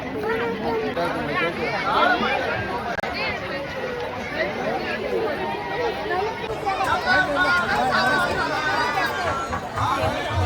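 A dense crowd at a village fair during the Savaridev puja in Kirvali: steady babble of many voices, some close and clear, with a continuous busy hubbub and no pauses.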